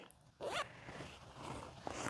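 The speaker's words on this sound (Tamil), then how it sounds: "ஹாஃப் ஜிப் தான் ஓப்பன் ஆகும்." Zipper on a fabric sling purse pulled open partway in one quick close rasp, followed by faint handling rustle, with no talking.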